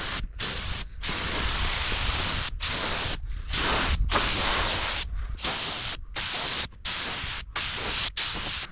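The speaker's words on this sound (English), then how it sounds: "We got our 2 to 3 coats of primer sprayed on there" Spray gun laying primer coats onto metal, a loud continuous hissing spray broken into repeated bursts by short pauses, close to the microphone.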